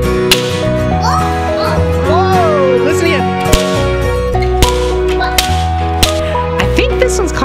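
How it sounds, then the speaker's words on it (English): Several sharp, loud wooden cracks of a slapstick ring out at irregular intervals over a continuous musical backing, with a voice audible at moments. "is called a slapstick."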